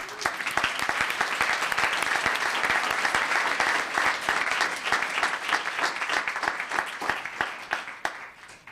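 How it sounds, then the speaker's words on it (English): Steady applause from the audience at a town council meeting, right after the Pledge of Allegiance, with many hands clapping in an even, moderately loud wash that thins out and fades in the final second. "Another round of applause."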